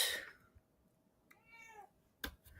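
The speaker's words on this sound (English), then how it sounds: "I can't concentrate when you're constantly meowing at me." A house cat meows once, a distinct, faint, drawn-out call heard in a quiet room, bracketed by brief soft clicks and rustles.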